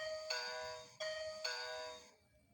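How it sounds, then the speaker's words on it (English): The doorbell of an 8018 smart door lock plays a clear electronic chime, three bright ringing tones in sequence, each sustaining briefly before the last fades out, with no voices. "It has a doorbell."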